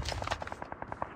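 Rapid burst of gunfire in a video game, about ten quick evenly spaced shots within a second, fairly faint and compressed, with no talk over it.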